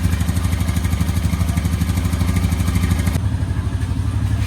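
A 2021 Honda Rancher ATV engine idles steadily after an oil change, a close, loud, even mechanical putter with fast regular firing pulses; the tone drops slightly partway through but the engine keeps running.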